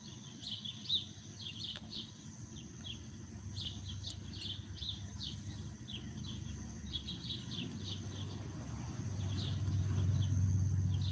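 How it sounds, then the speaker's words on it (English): Many birds chirp and twitter in the distance at sunset, a steady scatter of short calls over a low outdoor rumble that grows louder toward the end. "we're out here just listening to the birds and watching a beautiful sunset."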